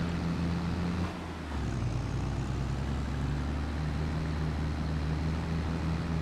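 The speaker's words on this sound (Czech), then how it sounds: "ten traktor tam jede 6 za hodinu celý ten kopec nahoru" A John Deere tractor labouring uphill with a heavy load in Farming Simulator 22, its engine a steady low drone that shifts pitch briefly near the start, then holds evenly and loud throughout with no talk.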